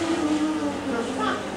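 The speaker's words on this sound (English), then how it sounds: "Then I'd blow them a raspy like this." A performer in a gorilla role in a Tarzan and Jane stage musical blows a raspberry, a short buzzing, fluttering lip noise made by voice over a low background hum.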